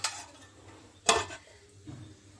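A lid goes onto a cooking pot of drumstick and masoor dal charchari with a clear metallic clank, followed by a lighter tap, close and otherwise quiet.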